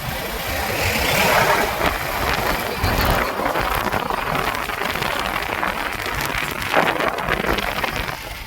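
A motorcycle engine runs steadily on a road, a dense, continuous roar with rushing wind noise that stays loud and close throughout, with no clear pauses.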